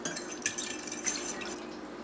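A spoon stirs rapid rise yeast and sugar into warm water in a bowl, making quiet, irregular clinks and scrapes against the dish with faint liquid swishing.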